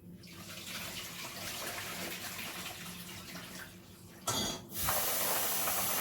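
Running tap water rinsing fava beans in a basin, a steady close hiss of flowing water, louder after a brief splash partway through.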